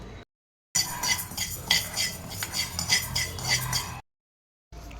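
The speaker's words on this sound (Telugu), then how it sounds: "సేమ్ స్పూన్తో పెసరపప్పు తీసుకుని దోరగా వేయించాలి." Spoon scraping and clinking against a pan while dry-roasting split moong dal (yellow lentils) for rasam powder, a steady close run of rattling stirs between short silent gaps.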